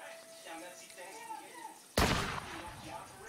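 A single loud, sharp gunshot cracks out midway and then rings off, following a quieter stretch of low background sound.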